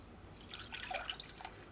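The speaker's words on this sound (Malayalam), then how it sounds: "ഇതിലേക്ക് നമുക്ക് 3/4 കപ്പ് വെള്ളം ചേർക്കാം." Water trickles and splashes into a pan of sugar in a short, bubbly pour with scattered droplet sounds, fairly quiet and close.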